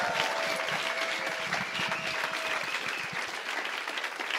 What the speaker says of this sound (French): À chaque fois que quelqu'un arrive ici, vous le faites un tonnerre d'applaudissements